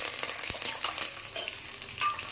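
Peanuts and curry leaves crackle and sizzle in hot oil in a pan while poha is being made, with bright continuous frying noise, scattered pops and occasional stirring, close and steady, with no talking.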